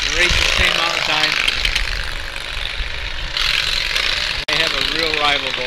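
Racing lawn tractor engines at an outlaw lawn tractor race in Western Ontario, a loud continuous buzzing roar of small engines with revving pitch changes, heard up close with a crowd and voices underneath.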